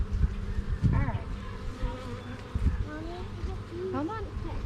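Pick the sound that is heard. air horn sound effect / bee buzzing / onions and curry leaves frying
bee buzzing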